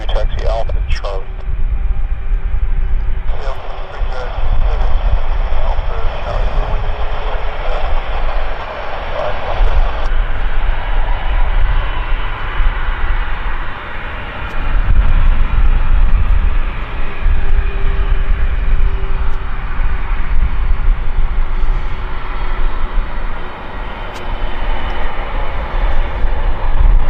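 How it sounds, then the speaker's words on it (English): A Lufthansa airliner comes in to land at Vancouver airport, its engines a low, steady roar in the distance that rises and falls slightly, heard beneath nearby talk and radio chatter. "We'll let the Lufthansa make the turn there in the right where it's backlit, and then I'll follow it in"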